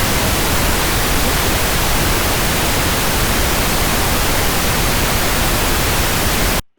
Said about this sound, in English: Here's pink noise, very similar,